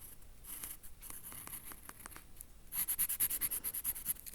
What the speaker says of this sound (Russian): сейчас раскрашу еще один колокольчик